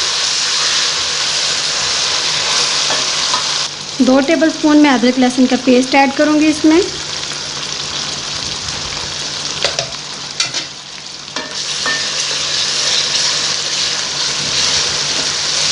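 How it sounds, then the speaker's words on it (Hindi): Steady, loud sizzling of chicken fried rice frying in a hot pan throughout, with someone speaking briefly over it and a few clinks midway. "1 से 2 मिनट के लिए हम इसे फ्राई कर लेंगे।"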